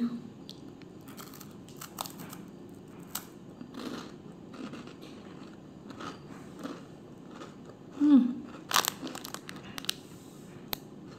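A sugar-topped snack eaten with black coffee gets opened and bitten into, giving scattered crinkles and soft crunches with a louder crunchy burst near the end, close up and faint, with light talk underneath.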